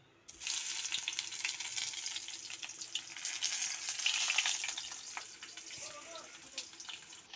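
Eggplant fries in a pan with a loud, continuous hissing sizzle and scattered crackling pops, close by and alone for several seconds.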